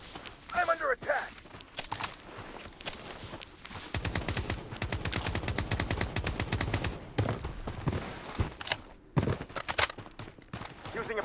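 Rapid automatic gunfire and scattered shots in the shooter game Blood Strike, mixed with footsteps and game voice announcements, fairly dense and continuous through most of the stretch.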